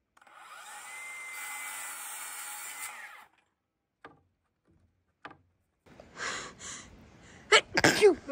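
A single sharp sneeze bursts out near the end inside a farmhouse under renovation, following a power tool's whine, a pause and a couple of small knocks.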